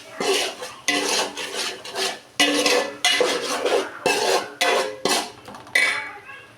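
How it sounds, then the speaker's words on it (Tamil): Rhythmic scraping of a utensil stirring a thick fish curry paste in a metal pot, repeated strokes with short pauses, close by and with no talking. "பேஸ்ட்டையும் நல்லா மிக்ஸ் பண்ணிக்கலாம்."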